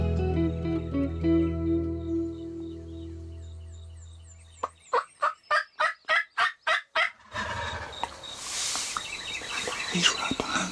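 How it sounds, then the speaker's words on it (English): Wild turkeys gobble outdoors, a rapid series of about nine loud, sharp, rattling calls in a quick burst, following a stretch of quieter background tones and leading into rustling, breezy field noise. "We're gonna be quiet and wait for these turkeys to come walking down this road."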